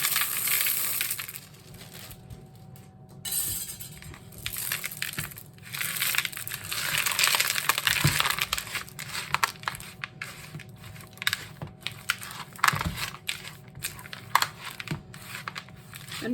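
M&M candies stirred by hand into Christmas cookie dough: irregular close crunching and scraping with small clicks and crinkles, continuing unevenly for about sixteen seconds.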